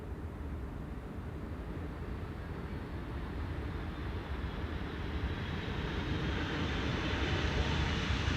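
A Cargolux cargo jet, arriving from Nairobi, lands on Schiphol's Polderbaan runway with its thrust reversers spooling up into a broad, steady roar that swells slightly louder toward the end, with no voices present.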